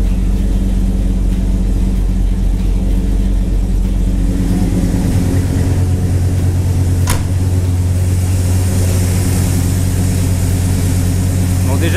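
A Chevrolet Nova car engine idles steadily at about 1000 rpm after carburettor work and a reconnected hose, a loud continuous low rumble running throughout with a brief sharp click midway.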